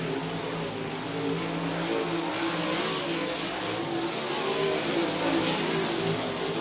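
Sprint cars racing in a main event at South Texas Speedway, a dense, steady roar of several engines droning together at a distance, with no break across the track.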